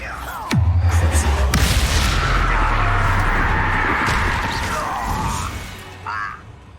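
A Bombarda blast spell going off in Hogwarts Legacy, a sudden booming crash that rumbles and crackles for several seconds before fading, with no talk over it.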